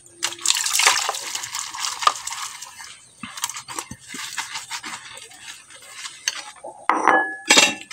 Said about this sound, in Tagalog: Hugas tayo plato mga idol.